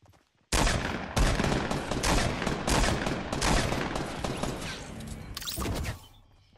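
Rapid bursts of gunfire from the Fortnite Battle Royale video game, loud and dense, rattling almost nonstop for about five seconds after a brief quiet start before fading out.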